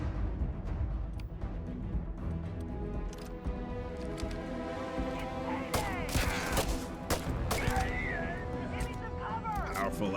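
Pistol shots in the sci-fi game Starfield, a handful of sharp cracks amid combat noise and shouting voices, fairly quiet overall.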